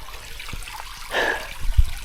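Water trickles into 750 ml bottles at a source on a Georgia Appalachian Trail hike, a soft close dribble rising briefly with a few dull knocks.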